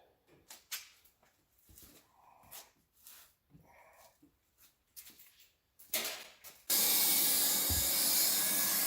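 A Leister hot air welder fitted with a straight-blade tacking nozzle melting plastic van fender pieces, first scattered light handling noises, then a loud steady blowing hiss that starts abruptly near the end.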